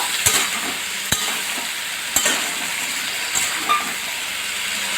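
Papaya and chickpea curry being stir-fried with spices in a pan, a continuous close sizzle and hiss broken by a few sharp spatula knocks against the pan.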